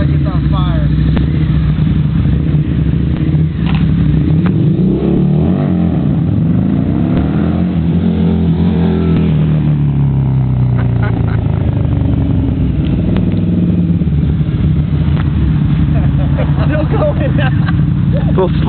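A smoking Harley-Davidson V-Rod motorcycle engine runs and revs loudly and continuously in the street, its low rumble rising and falling, with people talking over it throughout.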